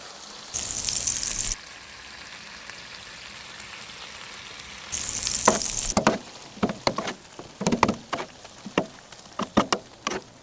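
Heaps of shredded cheddar melt and sizzle on a griddle, a soft frying hiss that swells into two loud sustained rushes before settling into scattered crackles and pops up close.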